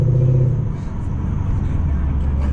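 A catless, FBO-tuned Lexus RC F V8 rumbles low and steady while driving, the deep drone holding through the short stretch with a slight dip and return.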